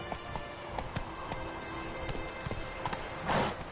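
Roach, the horse in The Witcher 3, gallops with rapid, close hoofbeats drumming over a steady background bed of game ambience, and a brief louder swell comes near the end.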